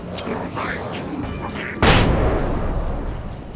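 A flashbang goes off in the video game Alan Wake, one sudden sharp burst that rings on as a bright, fading wash, with muffled game sounds before it.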